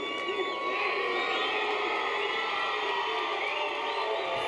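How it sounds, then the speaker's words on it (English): A boxing crowd at a pro fight cheers and roars steadily and loudly, with shouts and whoops layered in a continuous wall of noise. "And the crowd loves this man."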